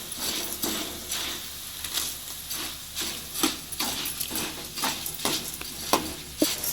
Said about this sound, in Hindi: तो करीब 10 से 15 मिनट तक भूना था, उसके बाद आवाज़ देने लगी थी हमारी दाल।